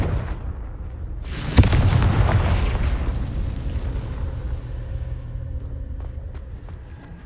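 A single loud Confringo spell blast in Hogwarts Legacy bursts suddenly, then rumbles on in a low, fading roar for several seconds.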